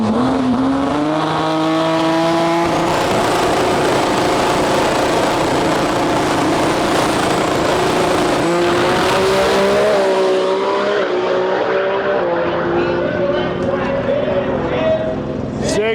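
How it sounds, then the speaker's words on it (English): Two JZ-powered drag race cars, one a Toyota Camry, launch together with a loud, continuous engine roar that climbs in pitch and then shifts as they pull away down the track at a racing event. "Two heavy hitters, two JZ powered cars. Let's see them go down right now."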